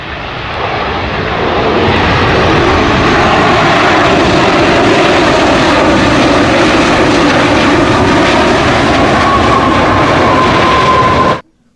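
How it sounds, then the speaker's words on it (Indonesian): A toy airplane plays a loud recorded jet engine roar that swells in, holds steady and continuous for about ten seconds, then cuts off abruptly. "Ini adalah pesawat terbang."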